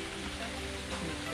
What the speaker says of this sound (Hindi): आपको सर यहाँ पे दो दो फॉल देखने के लिए मिलेंगे। एक तो ये रहा